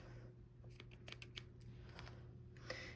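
Scissors snip a crochet yarn tail, a few quick faint close clicks and snips over low room hum.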